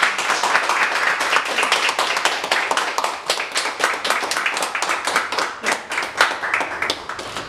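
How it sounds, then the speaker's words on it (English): Steady applause from a crowd, many hands clapping in a dense, continuous patter that holds loud throughout with no voices over it. "could our guests please give them a round of applause for sharing this?"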